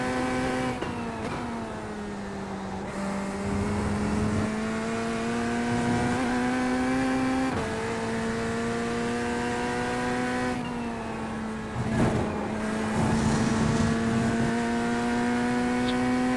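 Race car engine in the iRacing video game during an IMSA race, a sustained close drone holding steady revs with slight pitch shifts and brief rises, with no talk over it.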